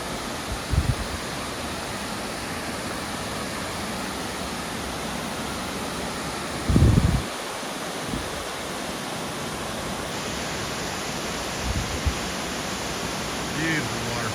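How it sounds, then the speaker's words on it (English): A waterfall on a hiking trail roars in a steady broadband rush, close and loud throughout, with a few brief thumps and bumps over the constant water noise. "Beautiful waterfall."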